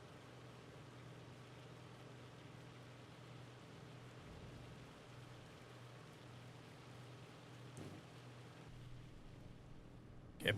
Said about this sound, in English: Get a break from the noise of the bloody hail.